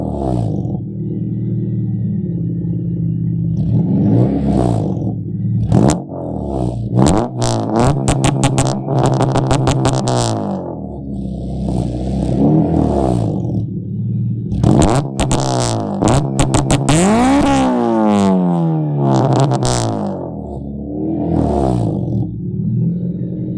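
A Honda Civic with a K20 engine revving hard in repeated bursts, the pitch climbing and then dropping back each time. The blips are loud and close, broken by short pauses at idle.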